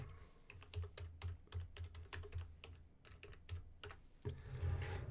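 Typing on a computer keyboard, a quick run of soft, irregular key clicks close to the mic, faint and steady with brief pauses between bursts.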